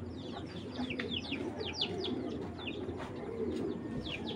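Pigeons in a loft coo steadily, a low continuous murmur of overlapping calls throughout, with sharper chirps from other birds scattered above, close and moderately loud, no talking.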